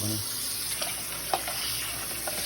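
Water runs from a tap while dishes and cups are washed, a steady splashing stream with a few small clinks, and a voice speaks briefly over it.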